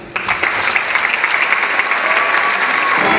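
Loud audience applause welcoming dancers at a dance show, a dense, sustained crowd of clapping that starts abruptly and holds steady throughout.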